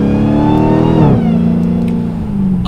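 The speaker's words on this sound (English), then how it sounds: "We're going to take it around a turn here, kind of power out in using only 500 horsepower." A 2019 Dodge Challenger Hellcat Redeye, limited to 500 horsepower, powers out of a turn with a loud, steady engine drone that swells and then drops to a lower pitch as it shifts, heard from close range.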